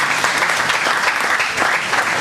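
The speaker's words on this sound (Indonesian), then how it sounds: "Tepuk tangan buat Lupromex." An audience applauds continuously at a product presentation, a dense, loud wash of many hands clapping close and steady for a couple of seconds.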